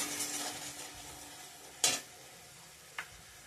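Tomato masala with turmeric being sautéed and stirred in a pan, a soft steady sizzle with two short sharp scrapes of the spoon against the pan, no voices.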